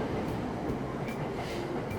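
Train rumble from the Persona 5 video game, a continuous close rolling rail hum with faint clickety-clack and squeal, steady throughout with no talk.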